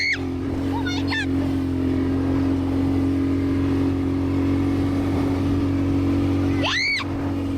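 An ATV engine drones steadily at close range throughout, with people shouting and squealing over it in short bursts near the start and end.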